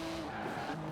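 A carbon-fibre sports car with a 3.8-litre twin-turbo flat-six making 700 horsepower drives in Forza Horizon 4, a brief steady engine drone with a hint of tyre squeal, close and continuous, no voices.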